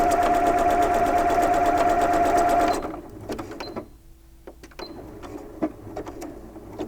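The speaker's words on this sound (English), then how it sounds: "place it on your sewing machine, and switch to a zigzag stitch" A sewing machine runs a zigzag stitch down a strip of elastic for pajama pants, a loud, rapid steady whirring for about three seconds before stopping, followed by quieter clicks and handling noises.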